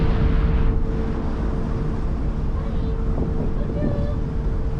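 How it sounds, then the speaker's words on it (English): Strong wind roars steadily across the microphone at sea on a ferry crossing, with a low engine-like rumble underneath throughout. "It's very windy."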